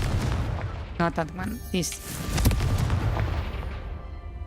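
Fiery Confringo spell blasts in Hogwarts Legacy, rumbling explosive booms and crackle filling the background while a person talks over them.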